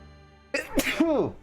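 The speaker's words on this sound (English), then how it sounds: "I sneeze." A single sharp human sneeze bursts out after a quiet stretch, close and fairly loud, with a brief vocal tail trailing off afterward.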